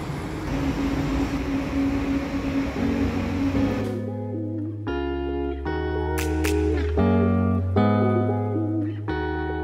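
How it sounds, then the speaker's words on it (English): A Paris Metro train rumbles and screeches along the track, with a steady roar giving way to sustained tonal hums and squeals as it moves. "Metro."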